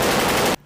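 Rapid burst of video game gunfire rattles loudly and continuously for about half a second, then cuts off abruptly into near silence.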